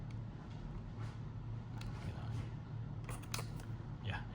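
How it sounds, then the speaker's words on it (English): A Minolta Panorama Zoom 135 film camera gives quiet mechanical shutter clicks, a few close, crisp snaps near the end over a low steady hum. "if I click the shutter, it will move to like number 10"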